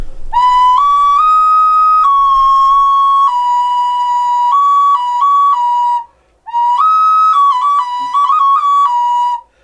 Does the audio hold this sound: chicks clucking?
no